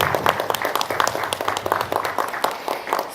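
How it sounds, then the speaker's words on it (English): Scattered audience applause for the speakers at a talk on mental health barriers and cultural competence, a thin patter of hands with a few sharper claps standing out, moderately close. "let's a round of applause for our incredible speakers today"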